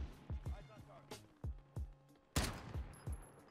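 Gunfire in Call of Duty Warzone: a series of sharp, booming shots in spaced bursts, each with a short decaying tail, and a louder crack about midway, with faint game sounds underneath.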